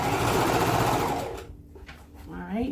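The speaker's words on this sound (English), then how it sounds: "I'm gonna back stitch over the seam" A sewing machine back-stitches over a handbag seam in a loud continuous whir that drops off partway, followed by quieter handling noises.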